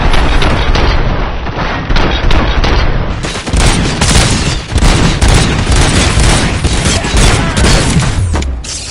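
Dense, continuous gunfire and booming blasts from a RoboCop video game firefight, loud and sustained for the full stretch, with a faint voice mixed in beneath the shooting.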